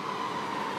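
A train, a class 150 unit on a Northern service, pulls out of Lincoln Central station, giving a brief steady rumble with a faint tonal hum close by.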